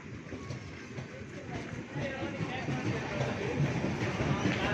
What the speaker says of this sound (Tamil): இந்த ட்ரெயின் தான் நம்ம வந்தோம்